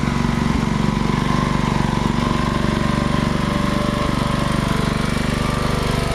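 A small riding mower engine runs steadily at idle, a constant loud chugging drone with no pauses or talking.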